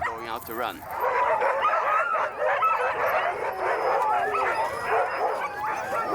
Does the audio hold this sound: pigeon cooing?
no